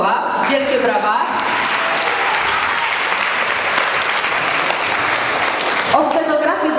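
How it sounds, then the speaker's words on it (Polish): A theatre audience at a children's stage show breaks into loud, dense applause, sustained and even for several seconds, with a voice speaking briefly at the start and again as the clapping ends. "Wielkie brawa."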